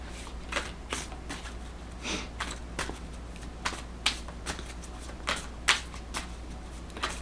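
Tarot cards are shuffled and drawn by hand, a string of crisp riffling snaps and flicks at an irregular rhythm, close and fairly quiet, with no talking.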